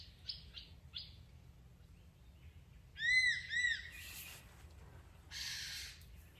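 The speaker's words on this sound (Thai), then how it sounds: "นกเหยี่ยวสองตัวมันกำลังบินไล่กันอยู่พี่ บินหาอาหารไม่รู้ว่ามันเจออะไรหรือเปล่า ร้องลั่นป่าเลย" Two hawks chasing each other through a forest, giving a few loud, sharp calls in a quick pair of bursts midway, with fainter bird chirps before and after over a low steady background hum.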